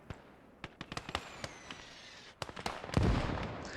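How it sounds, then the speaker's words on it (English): Mortar fire in the World War II strategy game Gates of Hell: Ostfront: a run of sharp, separate bangs and thumps at irregular intervals, mostly distant, ending in a heavier, closer boom that rumbles on. "So now we've got the mortar."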